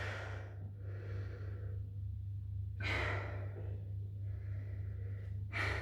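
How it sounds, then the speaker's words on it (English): Slow breaths drawn in and let out while someone lies face down on a mat in a Pilates session, three soft airy breaths about three seconds apart, close and quiet over a steady low hum. "just take a couple of breaths there"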